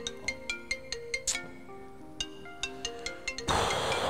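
A phone plays a melodic ringtone for an incoming call, with repeated bright chiming notes in a steady rhythm. A burst of broadband noise cuts in near the end.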